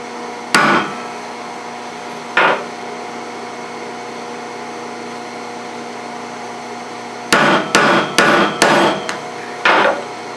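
Stainless steel being hammered to dome a sewing machine glide foot: two single loud strikes, a pause, then a quick cluster of four sharp blows and one more, each ringing briefly.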